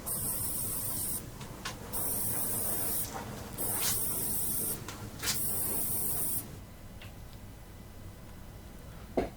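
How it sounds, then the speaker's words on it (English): Rust-Oleum Flat Black primer hisses from a spray can outdoors in several sharp bursts of a second or two each, separated by brief pauses and small clicks, close and loud. "I took them outside for a primer coat of Rust-Oleum Flat Black."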